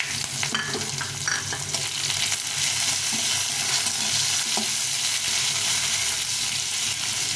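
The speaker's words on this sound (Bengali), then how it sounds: "পেঁয়াজটা একটু লাল লাল করে ভেজে নেবো" Sliced onion fries with white cumin and bay leaves in hot oil while being stirred. A dense, close sizzle runs throughout, broken by scattered utensil scrapes and taps, with no talking.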